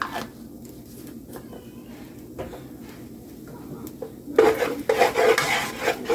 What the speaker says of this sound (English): Gonna get it mixed in with my onions so it doesn't burn.